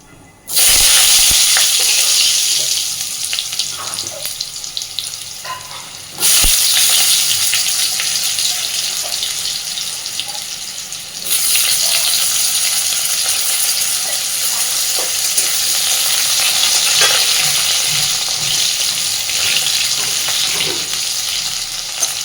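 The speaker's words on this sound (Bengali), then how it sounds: "খুব সুন্দর করে আলুগুলো এবার একটু ভেজে নেব" Potatoes frying in hot oil with cumin seeds for a Bengali papad dalna, giving a loud, steady sizzle and hiss that runs throughout, with a brief drop around six seconds and again near eleven as the pan is stirred.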